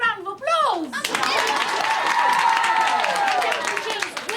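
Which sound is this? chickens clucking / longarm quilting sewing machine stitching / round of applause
round of applause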